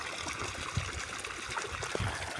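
Irrigation water runs from pipes into a farm field with a close, steady trickling and gurgling flow and small splashes.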